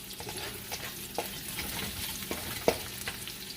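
Onion and garlic frying in a pan, a close, continuous crackling sizzle with a few soft stirring knocks and one sharper clink.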